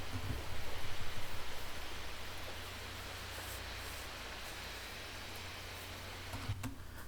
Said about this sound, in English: There's also a thunderstorm.